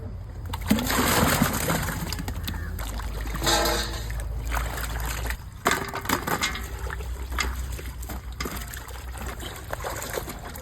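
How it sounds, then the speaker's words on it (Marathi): Water splashes and trickles as vegetables for an aubergine-potato curry are rinsed and swished by hand, with intermittent clatter and sloshing, close by and fairly loud. "आपण आता सर्व भाजीपाला व्यवस्थित स्वच्छ पाण्याने धुवून घेऊ"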